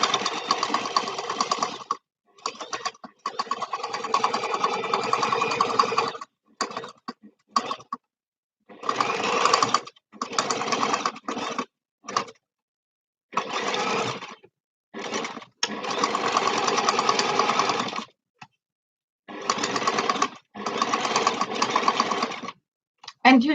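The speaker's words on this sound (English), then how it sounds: "you're stitching zigzag like this." A sewing machine stitches zigzag on small fabric bags in close, loud bursts of rapid mechanical whirring, started and stopped repeatedly with brief silent gaps between runs.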